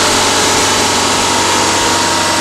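A multi-cylinder petrol engine runs on a test bench during a Morse test, a loud, steady, continuous mechanical drone with no break.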